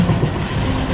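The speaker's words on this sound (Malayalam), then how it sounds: "പാടങ്ങളെയും ദൂരെ മലനിരകളെയും പിന്നിലാക്കി ട്രെയിൻ ഇതാ കുതിച്ചു നീങ്ങുകയാണ്." A train runs along the tracks past fields, giving a loud, close, continuous rumble with a faint rhythmic clatter for under a second.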